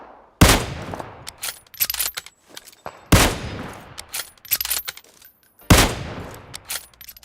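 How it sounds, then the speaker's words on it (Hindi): Kar98 bolt-action rifle shots in PUBG Mobile: three loud, sharp gunshots spaced about three seconds apart, each followed by a decaying echo tail, with scattered smaller game noises between. "पहले तो कार 98 से चालू करा मैंने मारना है इन्हें"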